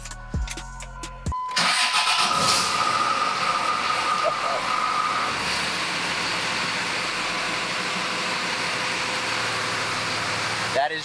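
A Cummins diesel engine in a dually pickup truck with a stock turbo cranks and fires up for the first time, then settles into a steady, loud rumbling run that continues to the end.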